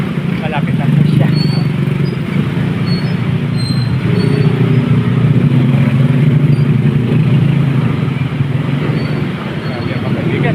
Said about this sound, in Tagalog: Napakarami ng may motor, mayroon din mga may bike.